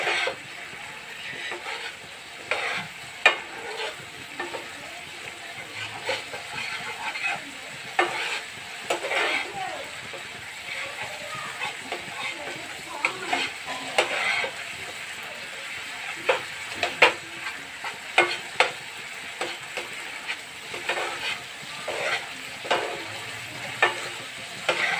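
Spice masala with turmeric frying in oil, a constant close sizzle broken by repeated sharp scrapes and taps of a spoon as it is stirred and turned over in the pan.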